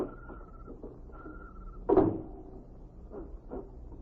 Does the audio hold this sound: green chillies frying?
no